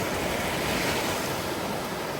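Rough sea waves break continuously on the beach at Şile, a loud, rushing surf roar buffeted by wind noise against the microphone.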